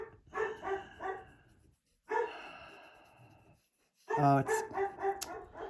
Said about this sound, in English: decides that's when he's going to start barking